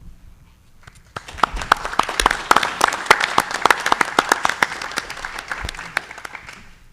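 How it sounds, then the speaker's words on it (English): Audience applause at a school committee meeting, starting abruptly and holding steady for several seconds with sharp individual claps standing out, then thinning toward the end. "And now please join in applauding the great work that those who run these special programs do for our students."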